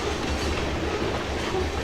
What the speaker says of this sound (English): as the train is just about done